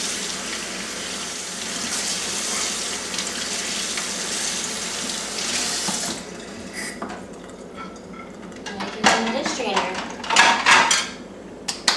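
Tap water runs steadily into a sink while dishes are rinsed, then the flow stops and plates and cutlery clink and knock nearby, with someone briefly speaking.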